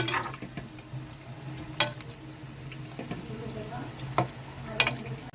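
Methi mathri, crisp fenugreek flour crackers, fry in hot oil with a constant bubbling sizzle, close by, broken by a few sharp clinks and scrapes of a utensil against the pan.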